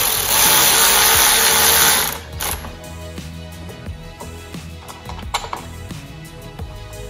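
A power driver runs a screw into a Mopar front grab handle on a Jeep Wrangler JL, a loud bright whir for about two seconds followed by softer clicks and handling noises.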